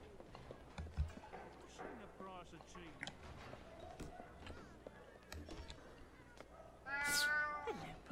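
A cat meows repeatedly in the Alice Madness Returns video game, drawn-out wavering cries with a loud final caterwaul near the end, mixed with character speech and footsteps.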